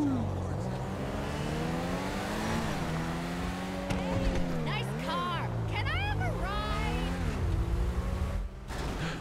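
Benefactor Krieger supercar in GTA 5 racing at high speed on a highway, its engine droning loudly with rising and falling pitch as gears shift, while someone talks over it.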